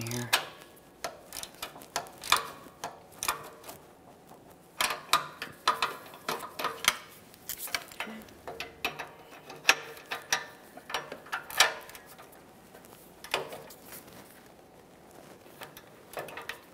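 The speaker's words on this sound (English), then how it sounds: "I'm going to torque this to 30 foot-pounds" A wrench ratchets close by while tightening the bank 1 sensor 2 oxygen sensor on a 2011–2020 Toyota Sienna 3.5L V6, with quick clicking bursts in uneven runs broken by short pauses.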